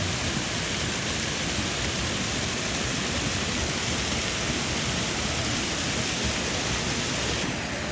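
A small waterfall in a stream makes a steady, dense rushing hiss that stays close and even throughout, with no voices.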